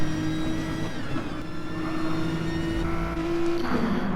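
Touring cars racing on the Dragon Trail circuit in a video game, engines droning steadily with rising and falling pitch as they shift and accelerate, no talking.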